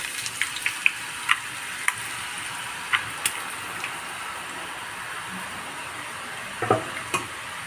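Omapodi dough pressed into hot oil fries with a soft, steady sizzle and fine bubbling hiss, broken by scattered small pops and crackles throughout.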